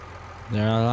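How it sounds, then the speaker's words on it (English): A tractor engine idling in Farming Simulator 19: after a quieter opening, a steady mid-pitched diesel hum with strong even harmonics starts up and holds, close and loud, with no talk over it. "Get this baler parked up, park the tractor."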